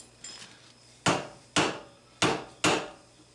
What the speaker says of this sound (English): Don't hit it too damn hard. Them hammers are heavy enough that they really move it.